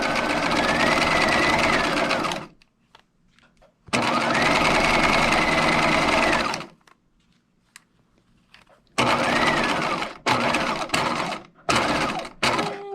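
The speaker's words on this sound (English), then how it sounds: "let's sew our center front seam on our mask" A sewing machine stitches the center front seam of a lace face mask with a straight stitch and backstitching, loud close whirring in long runs, then shorter stop-start bursts separated by silences.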